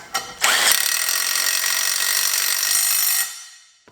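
Impact wrench pulling a nut onto a wheel bolt while building three-piece Kinesis wheels: one sharp short burst, then a loud, steady, close hammering whir for almost three seconds before it cuts off.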